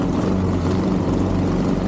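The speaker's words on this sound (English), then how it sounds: "that sputter, the engine was running rough and then it smoothed out right after that sputter" A light aircraft engine running rough, a loud, steady low drone from inside the plane with no clear break or sputter standing out and no voices.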